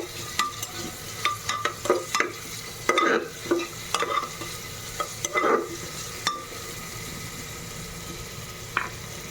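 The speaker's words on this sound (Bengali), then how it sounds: "পেঁয়াজটা দিয়ে এবার আমি পেঁয়াজটাকে খুব ভালো করে ভেজে নেব" Onions frying in a pan for khichuri, with clear sizzling under repeated scraping and stirring strokes of a spatula, close and fairly loud, and no talk.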